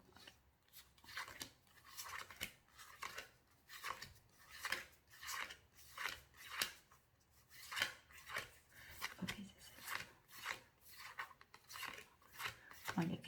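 A deck of tarot cards handled and cut in close, soft rhythmic swishes and slides repeating in waves, faint and without speech.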